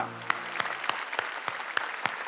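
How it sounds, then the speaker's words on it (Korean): A church congregation at a Sunday worship service claps in a steady rhythm, about one sharp, fairly faint clap every third of a second, with no talking over it. "하나님께 감사의 박수를 올립시다."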